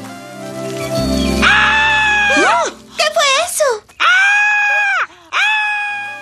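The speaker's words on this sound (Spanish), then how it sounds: "Homero sale y se da cuenta que el horrible grito proviene de una oruga que reposaba en el estanque de Marge." A cartoon caterpillar from The Simpsons screams horribly. The loud, drawn-out, wavering wails are broken by short gasping breaks and end in a final sustained shriek.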